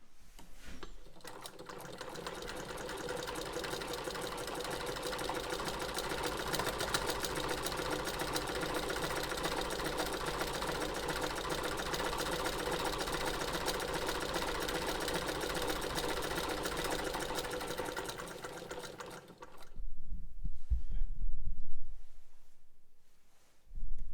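A Singer 128 sewing machine stitches in a fast, steady mechanical whir with rhythmic clatter, close and continuous for about twenty seconds. It then stops, followed by a few soft handling thumps.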